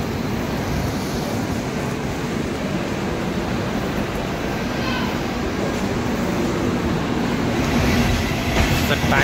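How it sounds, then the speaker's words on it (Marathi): A Konkan Railway train pulls out of Thivim station with a loud, steady rumble of rolling wagons and faint clickety-clack, building slightly toward the end. "आणि ट्रेन बघा निघाली आहे लगेच 2 मिनटं थांबल्यानंतर."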